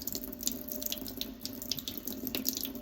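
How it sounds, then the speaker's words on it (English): Tap water runs steadily into a sink while a bunch of squeezed parsley is rinsed, a continuous close splashing gush with no talk. "Rinse some of it out and twist it back up and squeeze it some more."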